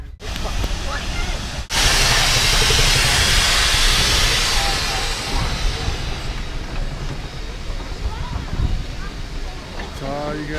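A loud, steady hiss of escaping steam fills the scene, with a steam train engine of the Yosemite Mountain Sugar Pine Railroad rumbling beneath and faint voices and clatter in the background.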